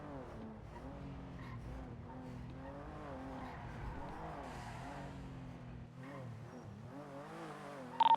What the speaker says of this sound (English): Might have heard an engine rev through the movie lot.